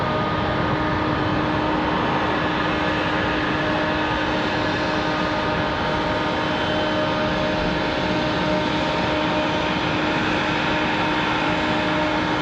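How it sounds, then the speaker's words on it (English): American Airlines Boeing 737 jet arriving from DFW at Raleigh-Durham airport, a loud continuous engine roar with steady whining tones, unbroken and close for the full stretch. "Here comes our American from DFW"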